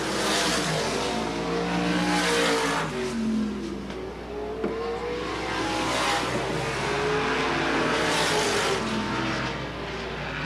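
Supermodified race cars roar around Sandusky Speedway in 1985, a loud, continuous engine drone that swells and fades as the cars sweep past, with no pause in the racing noise.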